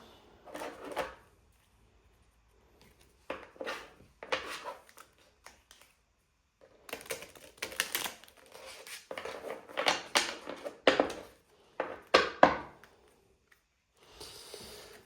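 Several bursts of crisp, riffling card shuffles with short pauses between them, close and fairly loud, with no talking.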